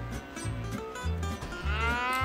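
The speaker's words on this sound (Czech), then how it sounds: "Tady jsou krávy po levém boku." Cattle mooing in the video game Wobbly Life, several long low moos following one another, fairly loud and close, with no talking over them.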